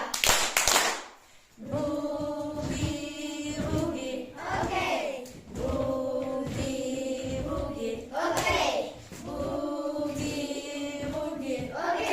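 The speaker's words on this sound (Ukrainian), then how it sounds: "пальчик, круги і долоньки, плескаємося" Hands clapping in a children's rhythm game, repeated bursts of claps and pats alternating with singing voices in a small room.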